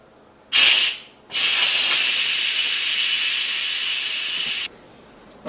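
Steam hisses hard from an Instant Pot during a quick pressure release after cooking a pie pumpkin: a brief loud burst, a short pause, then a long steady roaring hiss that cuts off abruptly, with no talking.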